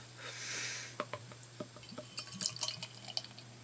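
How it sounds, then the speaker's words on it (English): To Øl Reparationsbajer beer pours from a bottle into a glass, a soft fizzing rush followed by glugging and dripping splashes, close and quiet. "Let's give her a pour out."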